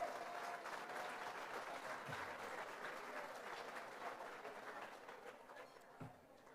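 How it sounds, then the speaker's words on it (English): Applause for the winners of an evening gala, a broad steady wash of clapping from a sizable audience that carries through and slowly tapers near the end. "Let's give a round of applause to all of our winners this evening"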